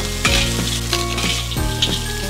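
Crabs stir-fry in a wok, loud, continuous sizzling broken by several rhythmic scraping strokes of the spatula against the metal, close and without talk.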